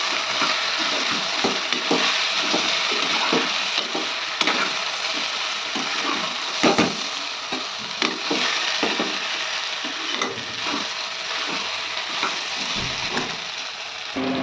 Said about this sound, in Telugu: 2 టేబుల్ స్పూన్ల అల్లం వెల్లుల్లి పేస్ట్ వేసాను. ఇది కూడా కొంచెం వాసన మారేంత వరకు వేసుకోవాలి.